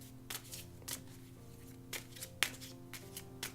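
A deck of oracle cards is shuffled by hand: soft, quick riffling bursts repeat at a steady pace over a quiet background with a faint hum.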